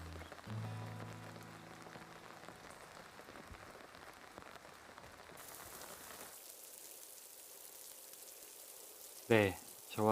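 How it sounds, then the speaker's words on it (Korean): Steady rain patters on a surface nearby at a pond during a typhoon, a constant hiss with a low hum early on and a brief loud clatter near the end. "빗소리가 참으로 정겨운 오늘입니다."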